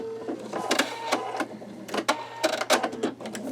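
An embroidery machine stitching a skull design, a close mechanical whir with rapid clattering needle strikes that come in quick irregular clusters.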